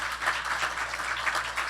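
Light applause and cheering from an audience at an anniversary celebration and annual general meeting, a soft, steady patter of clapping at a distance over a low hum.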